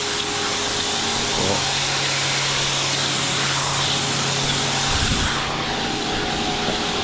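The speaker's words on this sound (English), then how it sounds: "Customers lent us this jet wash because it's better than ours." A borrowed jet wash pressure washer blasts multicoloured block paving, giving a loud, steady hissing roar of spray over a constant motor drone, with a brief change in pitch partway through.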